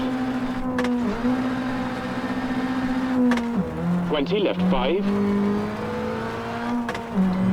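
A rally car in the WRC Generations game drones steadily at high revs, dips briefly during shifts, then blurts out a rapid revving burst near the middle. A co-driver calls pace notes over the close, continuous engine.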